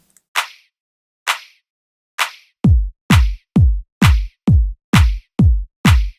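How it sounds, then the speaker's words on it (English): Eleven crisp electronic hits from a Joko sample pack clap sound ring out in a steady rhythm, three sharp snappy claps alone, then eight louder ones each landing just ahead of a deep booming kick drum, with no talk. "So this clap is a little bit in front of the next following kick."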